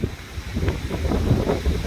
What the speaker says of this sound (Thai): ลมพัดมากนะครับ